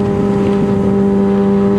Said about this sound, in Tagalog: Tapos yung tunog ng exhaust, dinig na dinig mo.